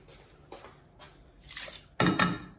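Water poured from a cup onto uncooked rice in an electric rice cooker, a few short splashy pours that build to a louder, fuller gush near the end, close by with no talking.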